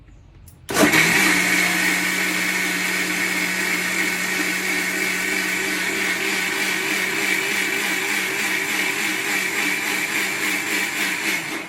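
An electric machine churns butter from curd with a loud, steady whirring motor that starts abruptly and runs continuously with a rhythmic churning pulse, close up and with no talking.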